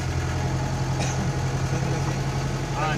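A jeep engine idles steadily with a low, continuous rumble on a safari drive near Kanthalloor, a faint brief click or two over the drone.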